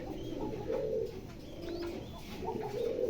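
Grizzle racing pigeons coo softly nearby in a loft, several low, rolling calls repeating in a gentle rhythm against a quiet background.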